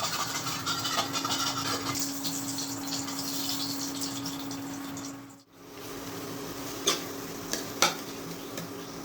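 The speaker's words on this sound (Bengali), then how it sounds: "এলাচি দিয়ে এইভাবে নাড়াতে হবে, ভালো করে কড়াইটা লাল করতে হবে নাড়িয়ে।" Spices with cardamom are stirred in a hot wok, a busy scraping sizzle with utensil clatter that briefly drops out midway, then resumes with a few sharp clinks.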